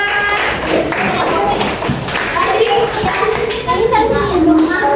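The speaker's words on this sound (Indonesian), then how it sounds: "kita tepuk tangan buat kelompok 2." Primary school classroom children clapping for a group, a loud patter of many small hands mixed with children's voices and chatter throughout, close and busy.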